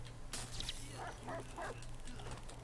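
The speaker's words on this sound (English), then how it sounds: "Let me pet that dog" A dog in the video game Watch Dogs 2 gives a few short, soft barks and yips in quick succession over a steady low hum.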